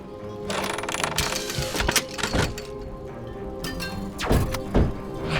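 A missile swarm is released in City of Springs, with a series of thumping launches and whooshing bursts at irregular intervals over a steady mechanical game background.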